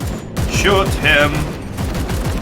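Gunfire rings out in the turn-based game Warhammer 40K Chaos Gate Daemonhunters as a burst of rapid, rhythmic shots. It runs continuously and loud, mixed with voiced game dialogue.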